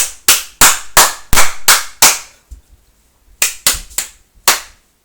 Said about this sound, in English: Everyone starts clapping because someone else is clapping.